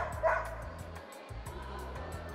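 A Beagle search dog gives short yipping barks and whimpers while working a food-search track at an outdoor dog event, several quick, moderately close calls with no talk.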